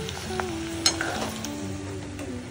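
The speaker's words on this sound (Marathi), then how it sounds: "मिरची तळून घेते" Chili peppers frying in oil in a home kitchen, a steady low sizzle with occasional stirring scrapes and a sharp clink, with faint background tones and no talking.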